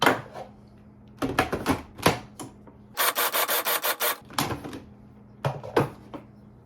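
Garlic chopped finely with a knife on a board, heard as bursts of quick rhythmic chops and taps, close up and with no talking.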